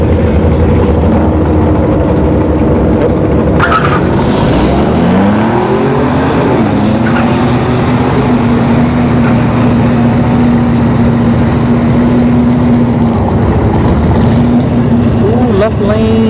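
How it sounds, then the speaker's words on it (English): Supercharged Ford F-150 Tremor pickup drag racing a Mustang at a dragstrip, engines roaring loud and close with a rising pitch as they launch and pull down the track, a sustained drone following, with people talking over it. "This F-150 Tremor, it's got a blower."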